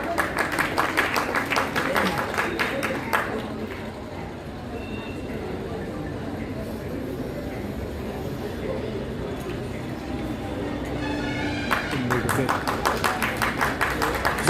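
Loud, sustained audience applause at a school managers' association award ceremony, with dense clapping filling the room from start to finish and rising again toward the end, voices mixed in beneath it.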